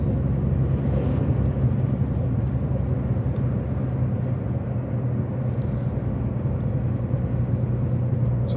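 A car climbing and descending rough, hilly terrain, its engine and road noise forming a steady, loud rumble throughout, with no clear talk.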